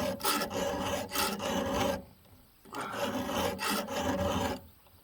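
Rakers on a McCulloch Pro Mac 850 chainsaw chain scuffed with a file over a raker gauge: close, rasping strokes in three bursts of back-and-forth filing separated by short pauses.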